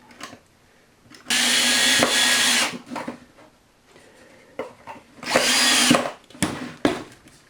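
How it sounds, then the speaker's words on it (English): A power drill drilling a pilot hole whirs in two loud, sustained bursts separated by a few seconds of quiet handling noises. "then I'm going to drill a pilot hole"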